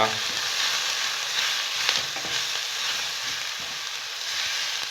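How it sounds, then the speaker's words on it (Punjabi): Spice masala of red chili, turmeric and salt frying in a pan for paneer bhurji, a steady close sizzle with soft stirring scrapes and no talk. "ਹੁਣ ਇਹ ਮਸਾਲਾ ਆਪਣਾ ਗਿਆ ਭੁੱਜ"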